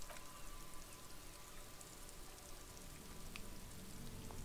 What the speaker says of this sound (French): De la pluie.